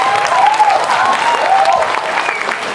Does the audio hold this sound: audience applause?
yes